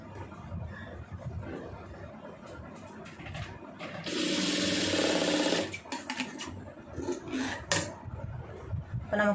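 Sewing machine stitching a round neckline on a garment, a steady loud run of about two seconds in the middle, surrounded by quieter clicks and handling of fabric and tools.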